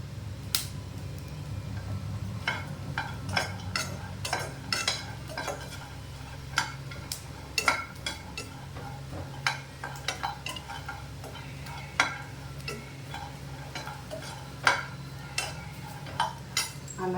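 Ingredients dry roasting in a pan with no oil are stirred with a utensil. Soft scraping and scattered sharp ticks and clinks repeat at an uneven pace over a faint, steady background.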